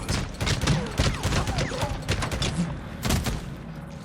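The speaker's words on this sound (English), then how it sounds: "So let's switch to the bigger gun." Rapid bursts of heavy gunfire from a larger weapon in the video game Days Gone, loud and close, firing in quick clusters with a few brief pauses between volleys.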